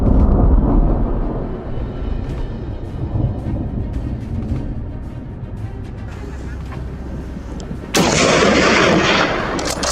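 Gunfire while hunting wild boars on a hillside, loud booming shots over a constant roaring rumble, with a sharper, louder burst near the end.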